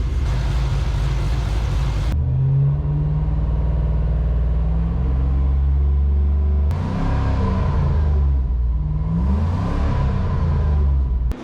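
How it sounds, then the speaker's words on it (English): A 1999 Chevrolet S-10 pickup engine idles steadily, then is revved up twice in rising and falling swells before settling back, loud and close with no talk. "Revved her up to purposely get it trying to warm up, and then let it sit there and idle a couple more minutes"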